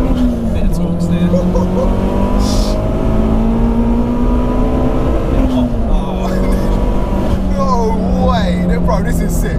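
Vauxhall Corsa VXR with a tuned 1.6-litre stage 4.5 engine, heard from inside the car, revving hard and pulling with rising and falling engine tones, loud and continuous, while people talk over it.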